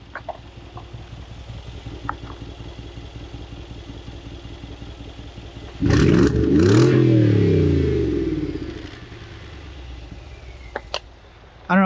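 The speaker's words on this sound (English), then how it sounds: "check out the grumble on this car. Listen to this exhaust note." A Mercedes G63 idles with a low burble, then its exhaust erupts into a loud, sharp rev near the midpoint that swells and slowly falls back to a rumbling idle, with no one talking.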